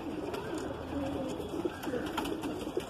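A Madrasi pigeon of Andhra bloodline coos softly at close range, low rolling calls repeating over a quiet background with faint chirps.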